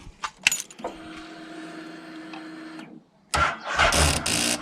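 A Honda XL700 Transalp motorcycle engine cranks steadily for about two seconds without catching, a flat battery suspected, followed by a clunk and then louder, broadband mechanical noise.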